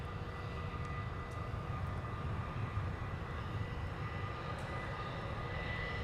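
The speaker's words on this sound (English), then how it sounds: "Another fine-looking Gulfstream." Gulfstream business jet at Minneapolis–St. Paul airport, a steady broadband engine roar that holds evenly throughout, fairly loud and continuous with no talk over it.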